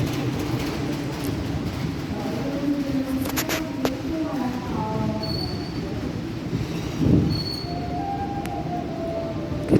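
Kamandaka passenger train hauled by a CC 201 locomotive, heard from inside an economy coach: steady rolling rumble with squealing wheels and faint metallic tones, plus a brief louder clunk near the end.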